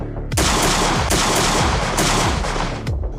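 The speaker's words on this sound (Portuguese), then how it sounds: "A rajada ecoou pelo deserto e os atiradores inimigos interromperam momentaneamente seus disparos." A rifle fires a rapid burst in the desert, several loud close cracks in quick succession each trailing into a rolling echo across open ground.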